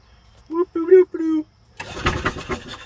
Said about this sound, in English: Let's turn the key on to see if this thing will turn over.